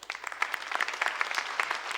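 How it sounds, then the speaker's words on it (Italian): Audience applause for a comedian walking on at an Italian cabaret show, dense steady clapping filling the room at moderate level without voices. "Un grande applauso a Soleandro."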